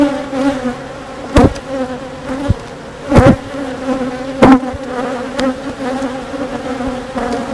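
Honeybees hum and buzz around an opened hive frame from a honey super, a steady close drone with louder individual bees sweeping past the microphone every second or so.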